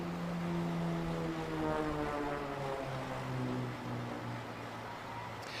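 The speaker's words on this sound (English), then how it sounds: "up in the sky he goes, ladies and gentlemen" An aerobatic Beechcraft Bonanza propeller airplane flies at an air race event, a steady droning engine hum with slowly shifting pitch heard from a distance.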